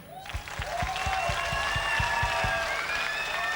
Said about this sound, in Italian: vorrei ci spargessimo fra noi un applauso di quelli che rimangono nella storia di Sonnino